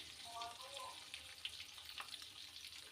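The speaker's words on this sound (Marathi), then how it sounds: "तर तेलामध्ये असे दोडके आपल्याला सगळे ठेवून घ्यायचे आहेत." Stuffed ridge gourds (dodka) frying in oil in a pan, giving a steady soft sizzle and crackle with scattered brief pops across the whole stretch.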